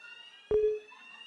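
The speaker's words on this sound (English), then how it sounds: "Is that a fire alarm?" A fire alarm goes off at a Labour election campaign event in the UK, a brief loud electronic tone held for about a quarter second over a steady background hum.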